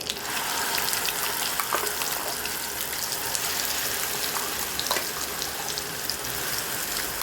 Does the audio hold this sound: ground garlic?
yes